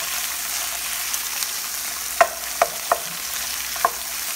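Asparagus sautés in margarine in a pan with a steady bright sizzle, broken by four sharp clicks of a utensil tapping the pan near the end, no voices.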